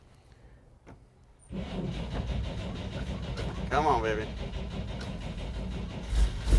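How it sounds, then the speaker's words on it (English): A 1953 Chevy truck's beefy inline-six engine cranks over after a quiet moment, then catches and settles into a steady, rumbling idle with a brief rise near the end; someone speaks over it as it fires. "Dude, it actually sounds really good. It's got that beefy inline 6 cam."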